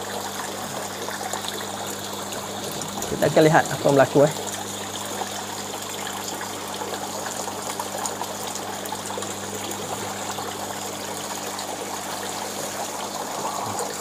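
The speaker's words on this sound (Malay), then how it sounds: "kita masukkan air pada tangki utama" Water runs steadily into the main tank of a tilapia recirculating aquaculture system with a dry sump tank, a constant low trickle throughout, briefly under someone speaking.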